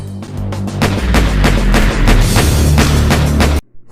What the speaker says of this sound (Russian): Стрельба автомата со звуком стрельбы пистолета.